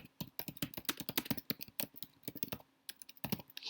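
Fingers type quickly on a computer keyboard close by, a dense run of sharp key clicks that pause briefly near the end before a few final taps.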